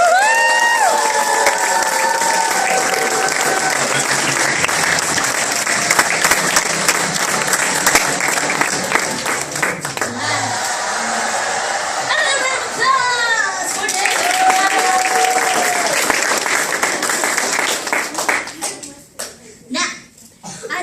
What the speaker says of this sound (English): Can everybody cheer?